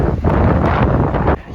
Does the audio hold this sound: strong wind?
yes